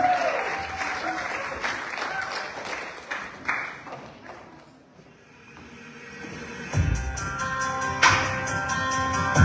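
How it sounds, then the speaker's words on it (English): Loud applause from a crowd, continuous clapping that dips briefly in the middle, then swells again with some chatter and a few sharp claps. "Let's give them a big round of applause."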